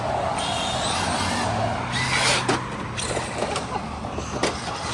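A 4S-swapped Traxxas Mudboss RC truck revs and accelerates outdoors, its motor whine rising and surging with a few sharp spikes of tire and ground noise. It is heard alone at moderate distance.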